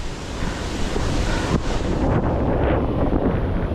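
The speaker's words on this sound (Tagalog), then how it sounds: "ang lakas talaga ng hangin." Strong wind roars and buffets the microphone steadily on the Sierra Madre Loop, with a rushing, surf-like wash underneath and no voices.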